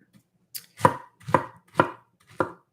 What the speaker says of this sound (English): I'm just cutting it up a little bit to make it easier to blend